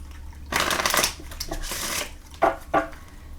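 Tarot cards are riffled and shuffled by hand in two long crisp bursts, followed by two short sharp taps as the deck is squared, close and clear with no talking.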